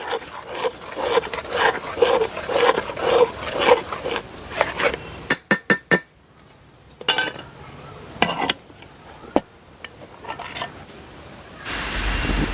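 Scraping and clattering of a wok holding cooked raw mango pulp as it is lifted off the stove. A run of rhythmic rubbing is followed by sharp knocks and clanks, loud and close, with no voices.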